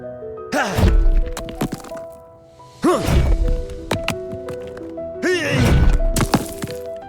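Stone idols being smashed in a dramatized sound effect, three loud separate bursts of cracking, crashing impacts with ringing, scattering debris, each followed by a short fading tail.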